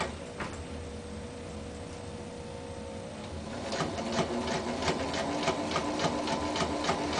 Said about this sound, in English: And as I back stitch, there as I approach the end,